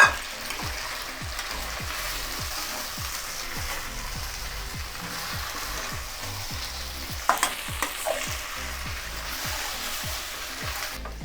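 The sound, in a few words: stirring chilli chicken frying in a pan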